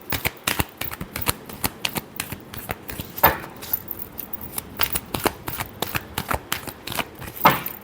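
A deck of tarot cards is shuffled by hand in a quick run of crisp riffling snaps and flutters, close and fairly loud, with no voice over it.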